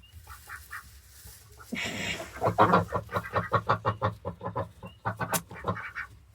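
A hen clucking near her nest in the hay in a garden coop, with a burst of rapid, fairly close clucks that swell into an excited run of repeated calls after a quiet, sparse opening, and no talk.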